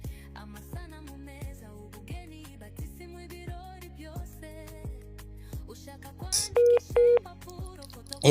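Telephone keypad tones sound while a number is dialed: two short, clear electronic beeps near the end, over quiet background music with a plucked, rhythmic beat.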